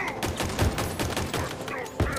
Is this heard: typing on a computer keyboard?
no